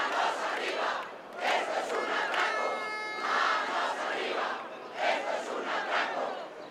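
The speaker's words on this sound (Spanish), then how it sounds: "Los pitos, abucheos e insultos se escucharon durante todo el pleno municipal." Crowd at a municipal council plenary in Palencia, whistling, booing and shouting insults, a dense, loud roar of many voices rising and falling in waves, with a sustained shrill whistle cutting through partway.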